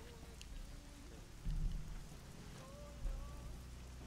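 Rain falling steadily outdoors as a constant soft hiss, with low rumbling swells and faint background tones, no voices over it.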